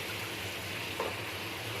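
Potatoes fry in hot oil alongside bitter gourd for a Punjabi-style karela dish, giving a continuous close sizzling hiss with a small bump of stirring partway through.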